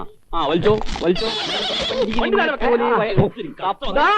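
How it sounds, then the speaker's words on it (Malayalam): A horse by a horse cart neighing in a long, shaky whinny, loud and close, tangled with voices around it. "ദേ വണ്ടി കുതിര വണ്ടി"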